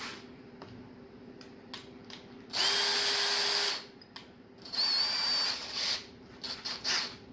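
A handheld power drill fitted with a 1/4 inch bit, used while making a custom spinner, whirs in two sustained high-pitched bursts of about a second each, with short tool clicks and handling taps between them.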